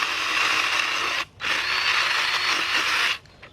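A mini chainsaw cuts through wood with a steady high-pitched buzzing whine, loud and close, in two bursts separated by a brief pause.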